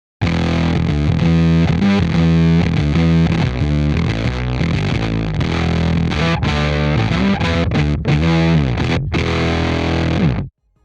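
Electric guitar played through a CorOS pedal with the low control at 100%, a loud, thick distorted tone with heavy low end, chords and riffs ringing continuously with brief choked stops near the end.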